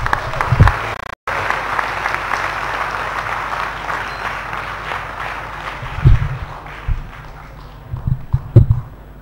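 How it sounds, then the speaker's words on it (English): Sustained applause from a crowd at a university public lecture, a steady wash of clapping that gradually thins and fades, with a few thumps and a voice near the end. "let's once again give a big round of applause for Pak Sehat"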